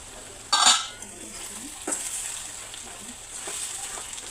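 Potato fry cooks in a pan as a spoon stirs it, bringing soft sizzling, a few scraping clatters against the pan and quieter stirring strokes throughout.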